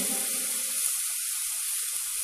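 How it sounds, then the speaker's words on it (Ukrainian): Chicken medallion frying in a pan, browning on each side, giving a steady, close sizzle with a continuous hiss and a few faint knocks, no voices. "Медальйон смажемо до рум'яної плівочки з двох сторін"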